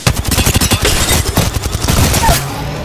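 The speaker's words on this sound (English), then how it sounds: "The enemies are shooting at me." Dense, rapid gunfire from an Apex Legends match, bursts of shots overlapping into a continuous loud fusillade with no pauses across the clip.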